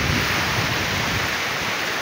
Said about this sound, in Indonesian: Seperti ini kondisi air ataupun suasana sore hari di Pantai Blayem Indramayu, Jawa Barat ya.